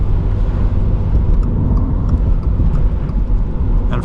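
A Subaru BRZ on all-season tires drives through snowy slush, giving a steady, loud low rumble of engine and tire noise with a constant wet road roar and no voices.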